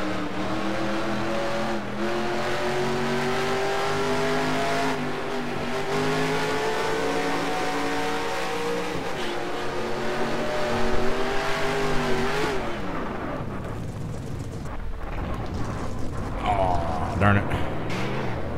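Race car engines roar steadily on track in the NR2003 racing game, a loud sustained drone that shifts pitch as the cars pass, then fades into rougher mechanical noise and scattered squeals near the end.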